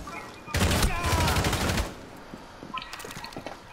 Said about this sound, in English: That gun is terrible.